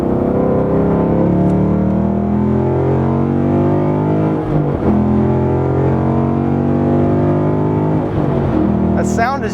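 A 2016 Ford Mustang GT with its Coyote V8 pulls hard in third gear, a steady, loud engine drone building as it accelerates from the cabin, with someone talking over it throughout.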